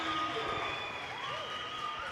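Crowd applauding and cheering in a gym at a high school basketball game between the WCS Spartans and Clearwater, a steady wash of clapping with a whistle-like tone and voices mixed underneath.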